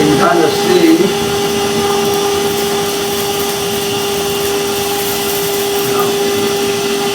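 A CRAFTSMAN 20V Max cordless vacuum cleaner running, a loud steady motor whine with a strong sustained tone and airy rush, constant throughout, briefly rising near the start.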